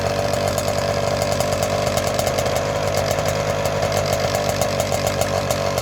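A small two-stroke paramotor engine screams at high revs close by, buzzing loud and steady with a rapid, fluttering pulse.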